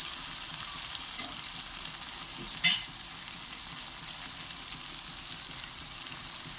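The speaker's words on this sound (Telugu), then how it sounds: "వేగాయండి చిక్కుడుకాయ ముక్కలు. ఇందులో కొంచెం పసుపు వేస్తున్నానండి" Broad bean pieces frying in a pan with a little turmeric added: a steady, quiet sizzle throughout, with one brief louder scrape or clatter partway through.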